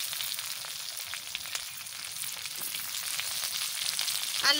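Chopped capsicum and onion hiss in a hot pan for chilli chicken, a steady bright sizzle heard close up and alone, with a brief scrape of stirring right at the end.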